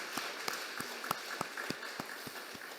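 A slow, steady series of individual hand claps from a church congregation, evenly spaced, echoing in a large room.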